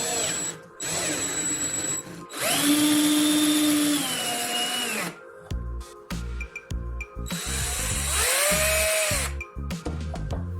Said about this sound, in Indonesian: Cara sederhana untuk mengupas isolasi dari kabel menggunakan obeng listrik.